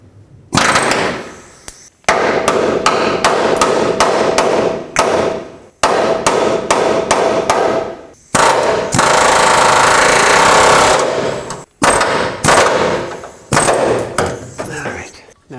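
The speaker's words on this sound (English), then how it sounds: "One thing we still have to do is to punch out the old rivets out of the frame" Repeated heavy hammering punching old rivets out of a 1997-2003 Ford F-150 truck frame, loud sharp metallic blows in rapid bursts separated by brief pauses, with one longer continuous stretch of impacts.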